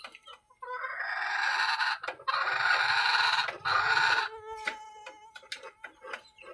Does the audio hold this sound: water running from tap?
no